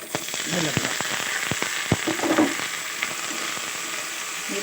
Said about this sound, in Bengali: ভালো করে পেঁয়াজ এগুলোর সাথে ভালো করে ভাজা ভাজা করতে হবে নাড়াচাড়া করে